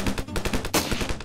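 Rapid automatic gunshots in a shooting video game, a quick string of roughly ten punchy cracks in just over a second, loud and close.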